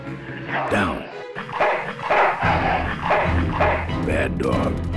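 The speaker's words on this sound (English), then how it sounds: "Bad dog." A dog in the video game Full Throttle Remastered barks repeatedly in a close, loud series of sharp woofs and yips, layered over game music and background sound.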